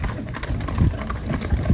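Hooves of horses pulling a carriage through road traffic, a few soft irregular clip-clops on pavement over a constant hum of passing vehicles, moderately close.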